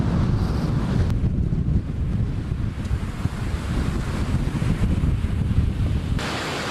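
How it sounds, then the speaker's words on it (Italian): Strong wind buffets the microphone in a continuous low roar on the beach at Malpasso, Savona, Liguria, with the wash of sea water underneath and no talking. "Siamo qua sempre in mezzo al vento, sempre più forte"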